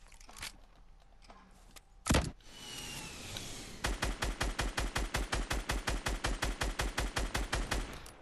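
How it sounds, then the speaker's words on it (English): Video game grenade launcher fire in a solo battle: a single loud blast, then a fast, evenly spaced string of about twenty punchy shots, close and loud with no talking. "Is he seriously shooting grenades at me?"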